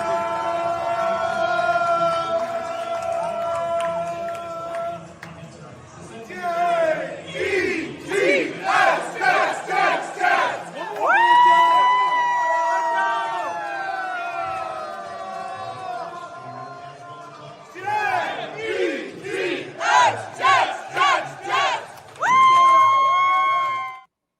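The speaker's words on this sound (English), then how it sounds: "Those are the 3 loudest chants of the night." A New York Jets stadium crowd roars out loud rhythmic chants, bursts of clapped, shouted syllables repeating in waves between sustained swelling cheers, massive and echoing throughout.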